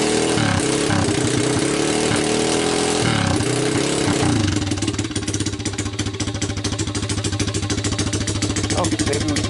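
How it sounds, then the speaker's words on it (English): A healthy-sounding ATV engine runs close by in a loud, continuous throb with a rapid, even beat, settling into a steadier idle partway through. "So this is a real healthy sounding engine."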